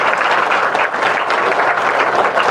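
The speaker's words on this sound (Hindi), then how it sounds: "प्रभु यीशु की तरफ से ताली बजा के परमेश्वर की महिमा कर।" A congregation at a healing and deliverance church service claps hands in praise, producing a continuous, evenly sustained burst of crowd applause with no pauses.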